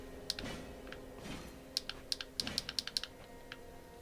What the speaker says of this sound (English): So I got a new controller, which will mean I play better, but you might notice lots of clicking noises.